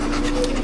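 A dog pants steadily up close, quick rhythmic breaths with no pauses, over a low constant hum.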